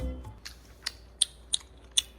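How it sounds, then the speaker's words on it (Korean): Someone deliberately chews a very sour snack with exaggerated noisy smacks: a few soft, close, wet clicks spaced about a third of a second apart, faint and alone. "일부러 쩝쩝거리면서 먹는 거예요."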